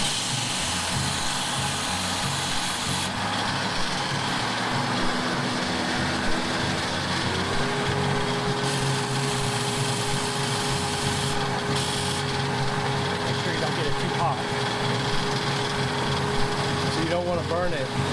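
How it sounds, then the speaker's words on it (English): A bone guitar nut being coarse sanded, giving a steady abrasive rubbing hiss throughout, with a motor-like hum and a sustained tone joining partway through. "we'll just start with coarse sanding and take that down to finer hand sanding"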